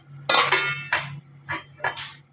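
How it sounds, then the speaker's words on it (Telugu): Metal lid set onto a cooking pot of mutton biryani, several close clanks and rattles in quick irregular succession as it settles, with a faint hum beneath. "మూత పెట్టేసుకుందామండి"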